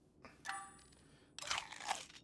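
A grilled oyster being eaten in the video game Palia, heard as two short bursts of crisp crunching separated by a brief pause, fairly faint and close with no talk.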